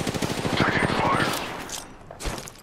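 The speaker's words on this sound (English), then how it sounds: "The enemies are shooting at me." Rapid automatic gunfire in a fast burst from the video game Apex Legends, followed by a single sharp shot, with a voice speaking over the action.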